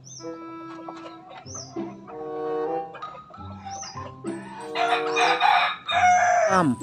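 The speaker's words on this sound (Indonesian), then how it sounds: "Kukuruyu. Wih, suara dari ayam." A rooster crows several times between bursts of clucking, the calls close and bright, ending in a long, loud cock-a-doodle-doo.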